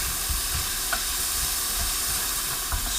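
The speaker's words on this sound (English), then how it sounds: "sweat your onions" Onions sweating in a hot pan for a lamb curry, giving a steady, soft sizzle and hiss throughout with a few faint stirring clicks, close and constant.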